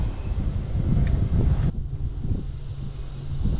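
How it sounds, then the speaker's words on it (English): Strong wind buffets the microphone outdoors while fishing in extreme heat, a steady loud rumbling roar with gusts, briefly easing midway before building again, with no talking. "This wind is a problem."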